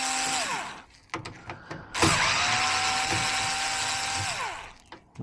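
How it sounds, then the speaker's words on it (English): A power driver backs screws out of a scrap metal shell. It whirs in two close, loud bursts, with clicks and metallic rattles in the short gap between them. "Let's take all the screws out."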